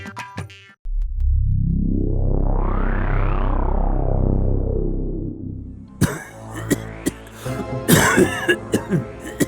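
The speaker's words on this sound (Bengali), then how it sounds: "কাশিটা একটু বেশি হয়ে গেছে" A man, an elderly king in a Bengali animated comedy, coughs in a cluster of harsh bursts near the end, after a long swelling and fading whoosh effect fills most of the stretch.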